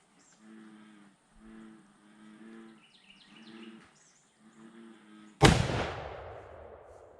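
A single loud rifle shot from a .50-110 WCF firing a 233-grain modified Barnes bullet, a sharp blast with a decaying echo, preceded by cattle lowing in the distance.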